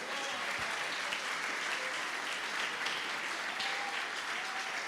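A church congregation claps steadily during a worship service, a continuous wash of many hands heard from some distance, with no speech over it.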